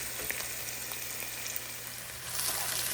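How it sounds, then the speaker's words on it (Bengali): Onion, ginger, garlic and garam masala fry in a pan for pilaf, giving a steady close sizzle throughout that swells a little louder near the end. "পোলাওর জন্য পেঁয়াজ, আদা, রসুন আর গরম মশলা ভালো করে একটু ভেজে নিচ্ছি"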